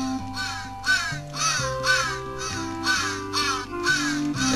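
Repeated loud crow caws from a Santa Claus video game, a run of harsh calls in steady succession over a looping synthesized music track.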